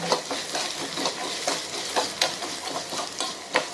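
Cumin seeds and pepper sizzling in hot oil in a kadai while ivy gourd is deep-fried, a loud steady crackle with rhythmic scraping stirs every half second or so, close up and without talk.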